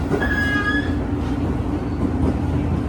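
Commuter train arriving at Cikarang station, a steady loud rumble of rail cars with a thin wheel squeal near the start, continuous and close, no voices.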